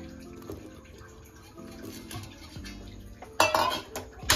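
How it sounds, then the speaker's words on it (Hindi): Cut pumpkin pieces go into a cooking pot for pumpkin kheer, with soft knocks and clinks followed by a sharper metallic clatter near the end, with no talking. "अभी कद्दू जो है उसमें डाल देंगे।"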